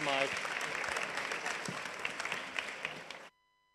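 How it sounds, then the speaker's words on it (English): Audience applause at a livestreamed conference panel in Berlin, a dense sustained patter of many hands clapping at moderate volume for about three seconds before stopping abruptly. "Please, a round of applause."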